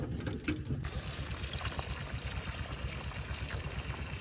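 Water from a solar-powered motor pump flows steadily into a coriander bed on a farm, a continuous rushing trickle, fairly close and even in level, with no talk over it.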